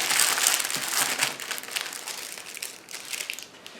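Wax paper crinkles and crumples as it is folded around a homemade breakfast burrito, with a steady run of close, papery rustling and no speech.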